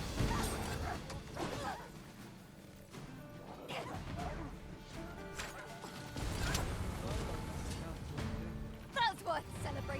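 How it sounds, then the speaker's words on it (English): Wolves in the Dragon's Dogma 2 video game bark and yip amid combat clashes and impacts, busy and fairly loud, with game voices speaking over the fight. "Wolves, Master!"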